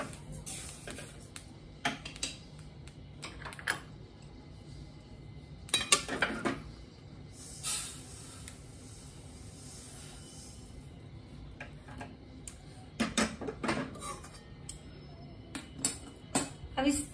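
Roasted sesame seeds for til ke laddu being tipped and scraped onto another metal plate, with scattered light metallic clinks, taps and rattles coming in short separate bursts against a quiet kitchen background.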